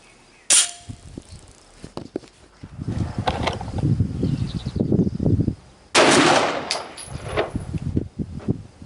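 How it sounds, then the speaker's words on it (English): A Glock 9mm fires Golden Saber 124 +P rounds, two sharp, loud gunshots several seconds apart. Between them come clattering and handling noises, with busier rustling after the second shot. "Next up, Golden Saber 124 plus P out of the Glock."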